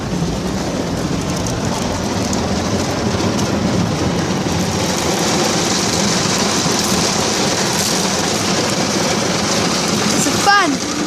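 Automatic car wash machinery heard from inside the car: a loud, steady wash of spraying water and rumbling brushes running throughout, with a brief squeak near the end.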